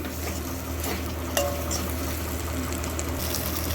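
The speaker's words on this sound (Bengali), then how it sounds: "এই রেসিপিটা তৈরি হবে কিন্তু সম্পূর্ণই জল ছাড়া এতে কোনো রকম জল ইউজ হবে না মশলার সঙ্গে খুব ভালো করে কষিয়ে নিচ্ছি" Okra sautéed with spices in a pan without any water, a dense steady sizzle with scraping stirs of a spatula, close and continuous, no talking.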